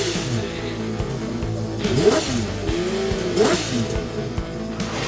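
A Honda six-cylinder motorcycle engine revs, its smooth high-pitched wail rising and falling twice over a constant mechanical drone, loud and fairly close.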